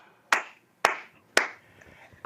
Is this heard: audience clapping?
yes